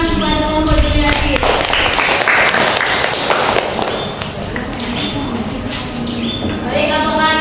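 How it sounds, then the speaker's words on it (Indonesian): A classroom of students claps for a student group after an integral lesson, giving dense, steady applause that fills the room, with whoops and voices mixed in at the start and end. "Beri dulu tepuk tangan kepada kelompok Juliati."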